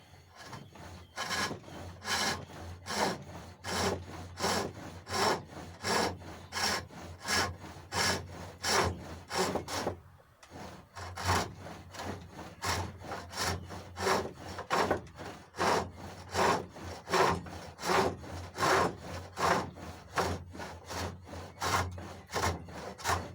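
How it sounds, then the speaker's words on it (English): Narrow parting tool cutting hawthorn wood on a pole lathe, a rhythmic rasping scrape repeating in steady back-and-forth strokes, near and clear, with one brief pause midway. "Now we use something called a parting tool, and this is just a very narrow chisel with a sharp point"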